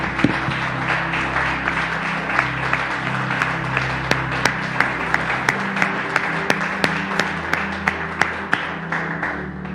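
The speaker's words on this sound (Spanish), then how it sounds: "Le damos un fuerte aplauso al Señor" Church congregation giving a loud, sustained round of applause, dense clapping with sharp individual claps standing out over a steady crowd wash, with no talking.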